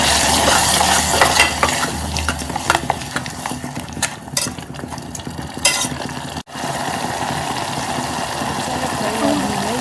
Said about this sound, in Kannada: ರುಬ್ಬಿರೋ ಮಸಾಲೆನ ಇದಕ್ಕೆ ಹಾಕ್ಕೊತಾ ಇದ್ದೀನಿ. ಅದನ್ನು ಚೆನ್ನಾಗೆಲ್ಲ ಫ್ರೈ ಮಾಡ್ಕೋಬೇಕು.